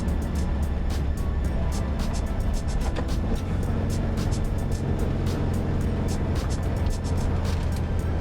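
A 1962 turquoise VW Beetle with a 40-horsepower engine drones steadily as it climbs a hill in Yucaipa, California. The engine is loud and close from the cabin, with light ticking over a constant rumble.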